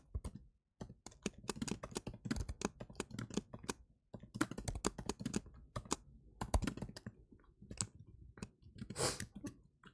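Fast, irregular typing on a computer keyboard while solving a coding puzzle, dense clattering keystrokes with a few brief pauses, close and quiet with no talk over it.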